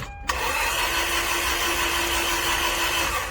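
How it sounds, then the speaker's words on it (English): A Toyota Tarago/Previa engine cranks over with a spark plug removed, after a brief click, the starter whirs steadily and loudly up close for about three seconds without the engine catching. "I want to crank it over to get some fuel in the system."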